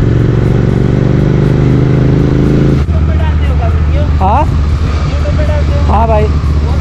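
A Royal Enfield GT650 motorcycle engine drones loudly while riding, a heavy steady rumble with wind noise, and a voice talks over it partway through.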